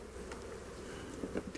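Kindy honeybees drone at an opened brood box in a poly hive during an inspection, a dense, close, continuous buzz with individual insects passing near.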